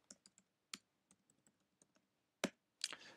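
Computer keyboard keys tapped while entering a command in a Linux terminal: a quick run of light, close clicks, a pause, then a couple of louder strokes.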